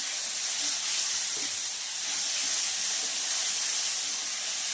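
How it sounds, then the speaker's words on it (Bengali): Ginger garlic paste being stirred into softened onion and tomato frying in a pan for chicken chana masala, giving a steady, close hiss and sizzle with no clear stirring knocks. "দেখুন এবার অল্প একটু আদা রসুন বাটা দেব, দিয়ে আমি নাড়াচাড়া করতে থাকবো"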